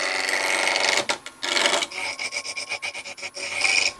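A wood lathe takes a peeling cut on a small wooden icicle ornament, giving bursts of close, rasping tool-on-wood scraping that break into short rhythmic strokes.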